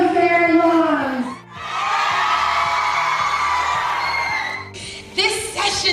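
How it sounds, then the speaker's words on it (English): An audience at a girls' conference screams and whoops together in a loud sustained roar lasting several seconds, with a voice over a microphone before and after it. "Everybody scream at the top of their lungs."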